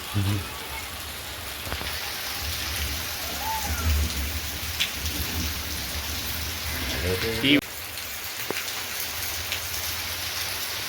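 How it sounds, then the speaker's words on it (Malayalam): Steady rain falls outdoors near a house, a dense, even patter on surfaces with occasional louder drips and knocks. "ഈ കാണുന്ന മഴയല്ലേ."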